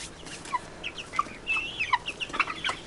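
Several chickens about 1.5 months old cluck and peep softly nearby, short overlapping calls in an irregular rhythm, growing busier toward the end.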